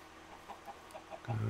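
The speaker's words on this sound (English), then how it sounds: "Gonna get me some chickens." Chickens clucking in the Minecraft video game, several short soft clucks spaced through the moment before a louder low rumble swells at the end.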